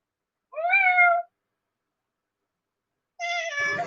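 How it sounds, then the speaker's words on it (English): A kitten meows twice, close and clear, with a long silent pause between the two cries and the second slightly harsher. "I have a kitten visitor today."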